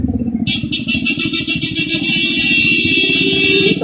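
A jeepney engine rumbling steadily at close range on a city street while waiting for passengers, with a bright mechanical whine or horn-like tone running above the low engine throb for most of the stretch.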